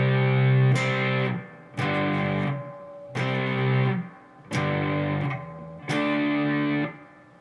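Distorted electric guitar plays a slow D5 power-chord riff, with five sustained chord blocks separated by short gaps, loud and close.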